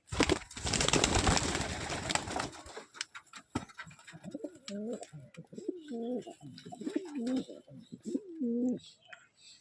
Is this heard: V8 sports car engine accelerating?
no